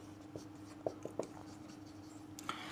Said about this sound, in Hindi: अब आयंस ज़्यादा प्रोड्यूस करते हैं तो हम यहाँ पे लिख सकते हैं एक पॉइंट और